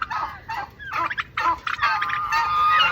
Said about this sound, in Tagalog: Meron pa ditong mga pabo